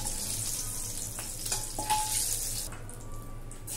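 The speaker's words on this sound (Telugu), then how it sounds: "ఎగ్స్ వేసుకొని వేయించేస్తాం కదా" Eggs frying in a pan for a drumstick egg curry, a steady broadband sizzle with faint stirring clinks, close and continuous, easing off toward the end.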